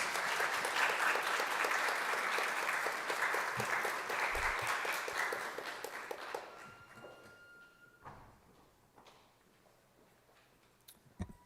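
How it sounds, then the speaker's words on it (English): An event audience applauds presenters with loud, dense clapping that holds for about five seconds, then thins out and dies away into scattered claps, faint knocks and quiet room noise. "Give them a warm applause,"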